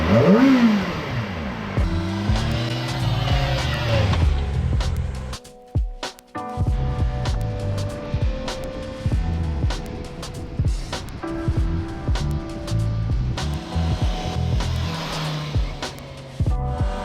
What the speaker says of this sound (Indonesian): udah kedengeran nih suara motornya nih